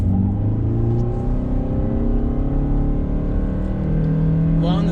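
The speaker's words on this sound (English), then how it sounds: "I'm gonna do a brake torque" A 2021 Toyota Sienna LE hybrid minivan pulls away hard from a brake-torque launch, its engine drone climbing steadily in pitch and staying loud and close from inside the cabin.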